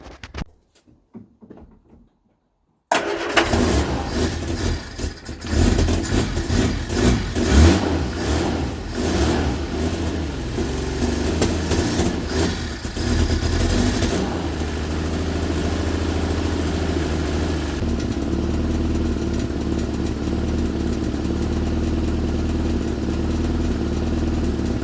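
A 1975 Vauxhall Viva engine, long abandoned and just given a rebuilt fuel system, starts up after a short silence and runs steadily at a loud, even idle with some revving and a rattling exhaust.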